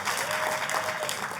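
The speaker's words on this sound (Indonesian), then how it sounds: "Tepuk tangannya yang paling meriah buat Tuhan kita." A church congregation claps together in a dense, lively burst of applause that holds steady for a moment, with no one speaking over it.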